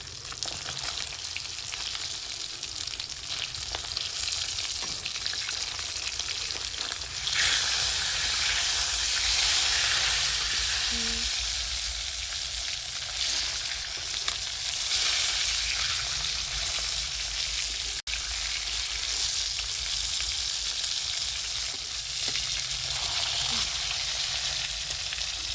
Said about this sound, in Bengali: এই যে দেখেন মাছটা আমার ভাজা হয়ে গিয়েছে।